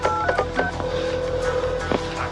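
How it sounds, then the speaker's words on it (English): Telephone keypad dialing tones in a 1989 TV movie scene, a quick series of short touch-tone beeps followed by a longer tone, fairly close, with background room sound. "could you just get this Dantley guy on the phone for me"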